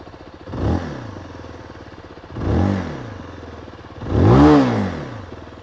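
A Zontes 350R motorcycle engine revs three times through its exhaust, each blip rising and falling sharply, the last the loudest, with a steady idle burble between the revs, close up.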